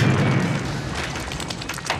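A cartoon zapper weapon fires with a loud, sustained burst of noise over a deep rumble. It runs the whole two seconds with no talking.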